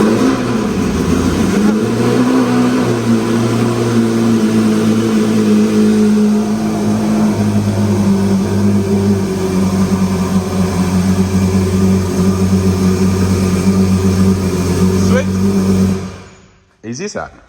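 A Lamborghini Murcielago LP640 GT1 engine runs loud and close on a cold start, holding a raised, droning rev with small surges before it cuts off abruptly near the end.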